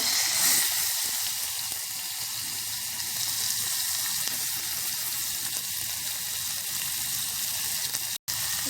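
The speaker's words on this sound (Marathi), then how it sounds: "व्यवस्थित कांदा आपण परतून घ्यायचा व्यवस्थित कांदा परतून घेणार" Onion sautéing in a pan with garlic, asafoetida and curry leaves for a Maharashtrian moong birda gives a loud, steady, close sizzle throughout, with a brief dropout near the end.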